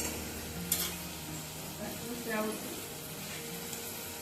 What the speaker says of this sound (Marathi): आता याला थोडं तेलात मऊ होऊ दे